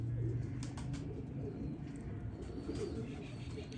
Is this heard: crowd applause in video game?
no